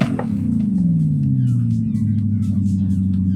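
A car engine in Forza Horizon 5 revs hard, then its deep growl slides down and settles into a steady, loud rumble.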